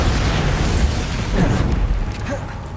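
The Bombarda spell from Hogwarts Legacy bursts as a loud, broadband explosion with a deep booming rumble that stays heavy and gradually tails off.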